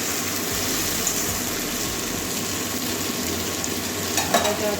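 Nigella seeds hitting hot oil give a steady, close, dense sizzle that holds evenly throughout, with a few faint clicks of stirring near the end and no voices.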